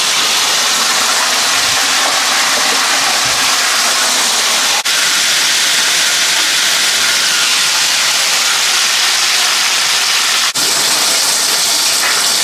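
Chicken wings deep frying in hot oil for buffalo wings, a steady, loud, continuous bubbling hiss with no pauses and two faint clicks.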